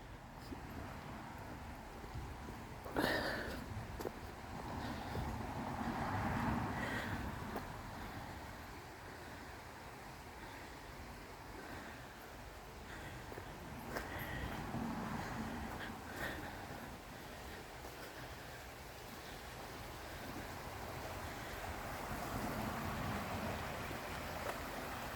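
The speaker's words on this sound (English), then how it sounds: "I think you can hear the running water by now." A small stream runs under a little bridge along a walking route in Telford, a faint continuous wash of flowing water mixed with wind noise on the microphone and a few scattered knocks.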